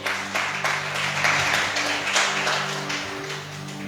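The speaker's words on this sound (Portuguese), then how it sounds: "Aplauda ao Senhor." A church congregation applauds with dense, continuous clapping, loud and close, over a sustained organ or keyboard hum, with individual claps popping out of the steady wash.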